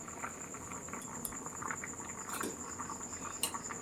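Soaked dried peas boil in a covered pot for ghugni in a village home kitchen, giving a faint, steady bubbling and patter with a few brief clicks, alone and without talk.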